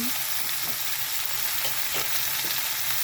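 Mung beans sauté in a hot pan with a steady, soft sizzle and a few faint scraping stirs, heard alone and fairly quiet.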